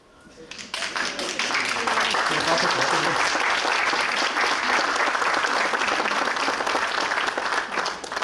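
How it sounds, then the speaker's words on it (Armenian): An audience applauds at a stand-up comedy show, clapping that quickly swells from quiet into a loud, dense, sustained ovation and holds steady to the end. "Շնորհակալություն ինքնագործ ծափարությունների"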